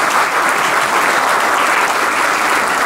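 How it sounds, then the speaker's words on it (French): Audience at a restaurant award ceremony gives a sustained round of applause, dense and even, close and loud throughout with no gaps. "maintenant nous allons procéder pour applaudir notre ami"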